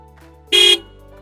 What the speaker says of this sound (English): this is how the horn sounds like